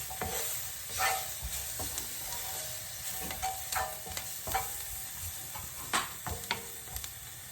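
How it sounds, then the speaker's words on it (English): Vegetables for a Cajun wrap frying in oil, a soft continuous sizzle broken by repeated scraping stirs of the pan every second or so, close and fairly quiet. "The veg will want to stick to the pan, so you've got to keep it moving around."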